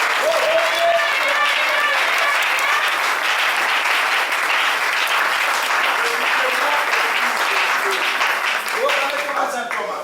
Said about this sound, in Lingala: Acclamez bien cette parole.